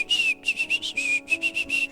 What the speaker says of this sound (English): Sparky replies in beeps and whistles.